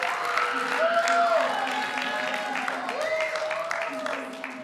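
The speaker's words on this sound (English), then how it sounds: "Give Dr. Zwick a huge round of applause." A crowd at a church Vacation Bible School closing program gives a sustained round of applause, with clapping continuous throughout and tonal voices and cheers rising above it.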